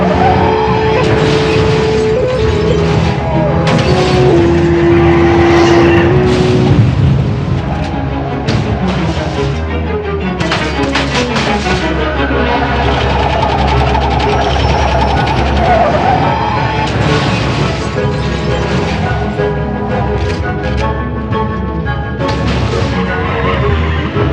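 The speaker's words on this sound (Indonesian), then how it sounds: "hingga akhirnya truk John terguling dan dia tak sadarkan diri" Truck crashing and rolling over during a chase, with loud sustained engine roar, tire squeals and crunching impacts over a dense music score.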